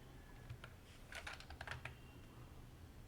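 Keys clatter on a computer keyboard in a short, quick burst of typing, close but quiet, with near silence before and after and no voices.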